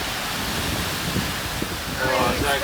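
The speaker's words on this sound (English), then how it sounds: "Squall, hoping it's the first and last one of the night." Strong wind and breaking waves roar in a steady, loud wash while sailing at sea during a squall of 32 to 33 knots between Vanuatu and the Solomon Islands.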